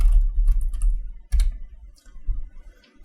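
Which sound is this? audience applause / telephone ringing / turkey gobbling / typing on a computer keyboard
typing on a computer keyboard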